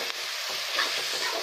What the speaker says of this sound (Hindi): इसमें ऐड कर देना है जो हमने हरी मिर्ची और लहसुन ग्राइंड किया था, उसको मिला लेंगे अच्छे से।